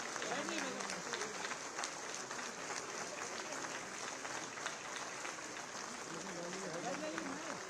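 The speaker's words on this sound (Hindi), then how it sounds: "माननीय मंत्रीगण के साथ तालियां बजती रहें।" A crowd at a launch event for modernizing PM Shri schools keeps up sustained, dense applause for ministers. A voice speaks over the clapping at times.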